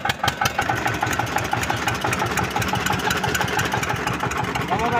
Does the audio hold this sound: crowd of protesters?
no